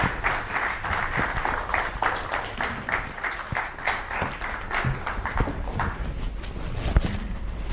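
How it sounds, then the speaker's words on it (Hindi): A studio audience claps warmly to welcome Pandit Pradeep Mishra, the applause loud and sustained with uneven, crackling hand claps throughout. "जोरदार तालियों के साथ स्वागत कीजिए पंडित"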